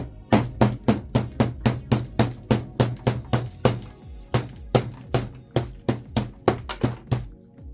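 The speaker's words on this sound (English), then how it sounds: "Use the fork end of your hammer." A hammer strikes metal in a quick, steady series of sharp blows while prying apart a mixer for scrap, close up, with a short pause midway before the rapid strikes resume.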